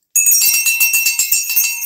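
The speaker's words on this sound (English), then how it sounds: "Ooh, you found a different bell. I switched it up." A different auction bell rings in a rapid, even series of about a dozen bright metallic strikes, close and loud, used during a live auction of paperweights, baskets, jewelry and coins.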